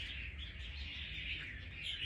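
A red-whiskered bulbul (chào mào), a trapped fighting bird, chirps in a steady run of bright, overlapping calls over a constant low hum, with no voices.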